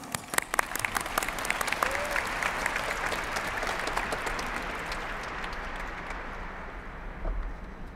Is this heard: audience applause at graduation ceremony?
yes